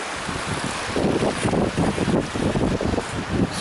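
Water rushes steadily through the rocky Coulon gorge, a loud, continuous roar with wind buffeting the microphone and no voices.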